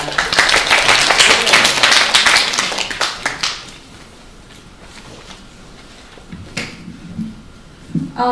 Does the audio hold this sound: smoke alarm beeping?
no